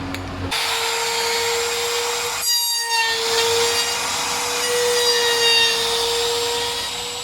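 A loud, steady high-pitched motor whine of a trim router with a bearing-tipped straight bit trimming excess wood from a saw table top, with a brief pause partway through before the whirring resumes and holds.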